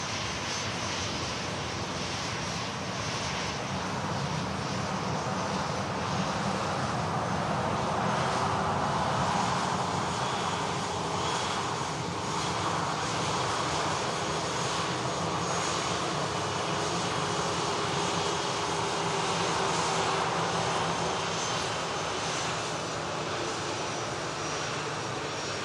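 Jet airliner departs from runway 23 right at Manchester Airport, a steady, sustained engine roar heard from a distance that swells slightly midway and holds throughout, with no talk over it.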